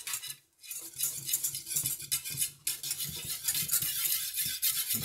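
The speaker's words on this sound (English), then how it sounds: "Keep stirring." A spoon scrapes and clinks repeatedly against a pot while stirring a strawberry cheese pound cake mixture, giving an irregular rhythm of close metallic strokes with brief pauses.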